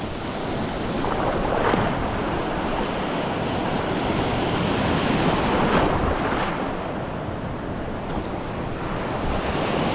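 Ocean waves wash steadily with a broad roaring hiss, swelling now and then, mixed with wind buffeting the microphone; no voices.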